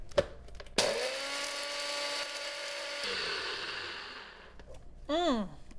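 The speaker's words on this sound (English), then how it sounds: "I'm going to blend them using this handy dandy blender." A countertop blender pulverizing dried eggshells into fine powder, a loud whirring motor whine starting abruptly after a short pause, running steadily for a few seconds, then winding down, followed by a brief higher buzzing.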